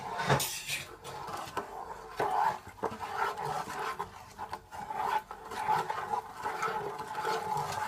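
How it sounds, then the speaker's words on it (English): Seasoning and brown sugar for pineapple honey BBQ wings being stirred in a pot, with rough rasping scrapes and soft knocks of a utensil in an uneven rhythm, fairly quiet and close. "Let's give it a stir."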